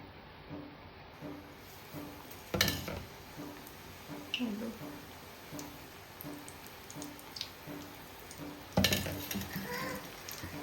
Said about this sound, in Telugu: ఇట్లా పిండిలో ముంచుకొని నూనెలో వేసుకోవాలి.